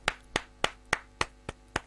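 Seven sharp, evenly spaced hand claps from a single person at a parliament budget reading, crisp and close with short gaps of quiet between them.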